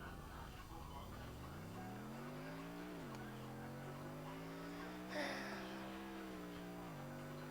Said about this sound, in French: on peut faire du drift en fait